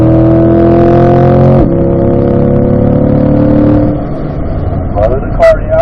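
A car on a race track revs and accelerates through the gears, a loud close engine whine rising then dropping at a shift, with an instructor's voice talking over it.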